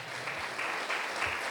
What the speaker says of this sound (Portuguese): Vamos aplaudir mais o Senhor.